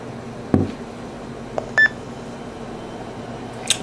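A short, clean electronic beep from a D-Star hotspot confirming a transmission, a single brief tone near the middle, faint against a quiet indoor background with a few soft clicks and knocks around it.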